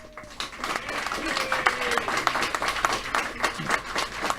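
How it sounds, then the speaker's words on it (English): An audience applauds the champions at a mind sports championship victory ceremony, scattered claps of moderate loudness rising and continuing under some talk. "another round of applause for our champions"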